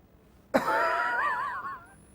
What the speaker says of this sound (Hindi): अब जग जाहिर हो चुकी मेरी खांसी